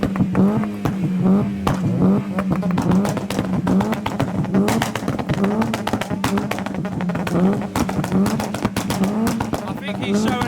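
A modified car pulling away from a car meet, engine droning loudly and steadily with repeated rhythmic revs and pops, close by, with people talking over it.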